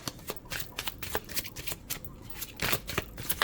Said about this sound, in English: it always feels so awkward shuffling on camera